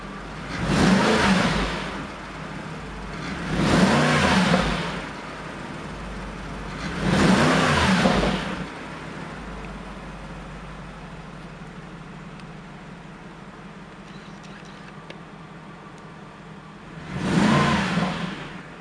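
Mercedes-Benz McLaren SLR engine blipped in four separate revs, each a short swelling roar that falls back to a quiet idle between bursts, heard up close.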